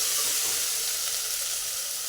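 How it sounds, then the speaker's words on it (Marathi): Vegetables sauté in a hot pan for masale bhat, a steady close sizzle and hiss that continues evenly without a break and with no talking. "छान भाज्या परतून घ्यायच्या आधी।"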